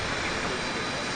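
Boeing 737 airliner at Portland International Airport, a steady broadband engine roar holding level for a moment with a faint voice mixed in.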